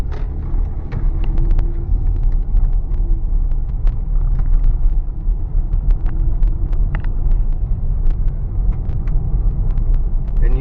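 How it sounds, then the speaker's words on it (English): Cabin road noise of a 2006 Mercedes ML350 driving over a rough surface: a loud, steady low rumble with scattered small rattles and ticks from inside the vehicle. "we're just gonna demonstrate road noise, feedback, that kind of thing on a rougher surface"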